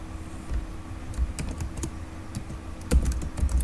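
HTML code typed into Notepad on a computer keyboard, with irregular close-up key clicks and a few heavier thumps like the space bar or enter key over a low steady hum, no talking.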